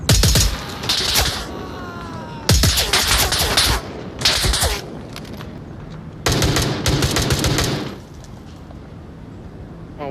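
Rapid bursts of video-game gunfire, loud, crackling automatic volleys in several stretches separated by short pauses, fading to quieter ambience at the end.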